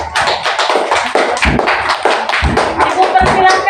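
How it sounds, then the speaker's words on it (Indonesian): Classroom students clapping for a presenting group after a lesson on water pollution, a close, busy patter of many hands with occasional thumps underneath and voices mixed in. "kita beri tepuk tangan dulu untuk kelompok 3"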